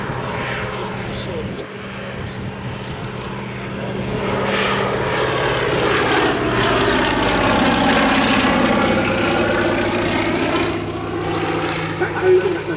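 A Fairey Swordfish Mk1 biplane flying a display at the Shuttleworth Military Air Show gives a loud, droning propeller engine note that rises and falls in pitch as it passes, while people talk.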